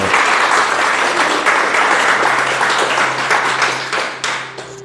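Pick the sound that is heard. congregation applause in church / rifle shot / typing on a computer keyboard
congregation applause in church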